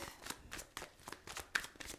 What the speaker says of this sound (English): 5 more shuffles.